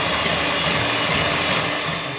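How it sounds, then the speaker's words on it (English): Egg whites are whisked in a bowl, a close, steady, dense whirring and rattling that holds level throughout the brief moment, with no voices. "Whisk our egg whites."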